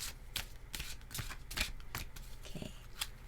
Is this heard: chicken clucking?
no